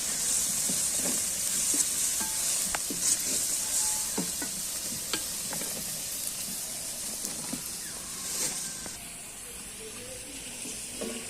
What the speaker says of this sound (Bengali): দেখেন আমি পেঁয়াজগুলোকে ব্রাউন করে ভেজে নিচ্ছি